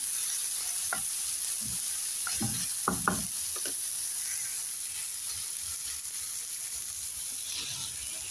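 Egg frying in a pan gives a steady, close sizzle throughout, with a few light knocks and stirring taps from a utensil against the pan early on.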